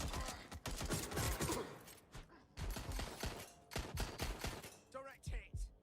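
Dense bursts of rapid gunfire from a shooter game, Watch Dogs Legion, come in loud overlapping volleys with short pauses between them.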